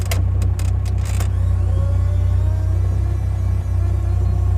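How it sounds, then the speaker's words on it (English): A Lada Riva VAZ 2104 estate's windscreen washer pump runs as a steady, close electric hum, with a few sharp clicks at the start and no voices. "That's the sort of noise that makes you wonder where the washer fluid's going"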